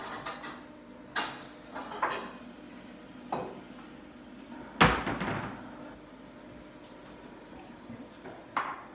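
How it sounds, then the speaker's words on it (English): A plate being fetched in a home kitchen during a chicken laksa cookalong: scattered clinks, a ringing ping and cupboard-like knocks, spaced out over low room noise with no talk. "I'll just get a plate"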